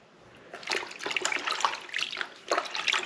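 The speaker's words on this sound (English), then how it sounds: "You can see the water starting to turn into dirty water." Water pouring and splashing as a dirt bike air filter on a Kawasaki KLX110 is rinsed, a steady running rush broken by louder surges, close and with no talking.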